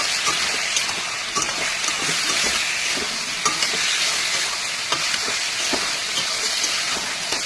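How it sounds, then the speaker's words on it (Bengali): Spice paste of ginger, garlic, chili and cumin fries in a pan with salt, sizzling steadily while a spoon stirs and scrapes in repeated clicks and rasps, close and continuous. "এবার এই মশলাটা দিয়ে কষাবো।"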